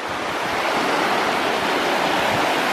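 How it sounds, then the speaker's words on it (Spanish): A small cascade on a river running high with lots of water, a steady broadband rush of falling and churning water with no pauses, close and fairly loud, with no voices. "ahorita el río lleva bastante agua. Bueno, vamos a seguirle más adelante. Miren nomás que bonita cascadita, chiquita."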